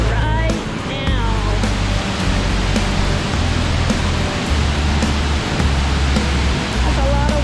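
Rushing water of Dingmans Falls along a wooded trail in the Poconos, a steady broadband roar heard from fairly close, with low rumbling footsteps or handling noise and a few brief faint tones over it.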